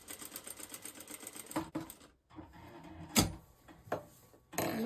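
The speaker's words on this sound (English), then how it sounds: "you're going to sew around the hole" A sewing machine stitches around a small tie hole on a wrap dress, running in short rhythmic bursts, then pausing for pivots with sharp clicks and thumps of the presser foot being lifted and lowered.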